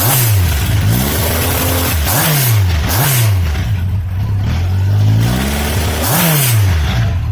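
A 1300cc Yamaha XJR1300 motorcycle from 2000, fitted with aftermarket exhaust cans, idles and gets blipped several times, its loud engine note rising and falling in repeated revs close by.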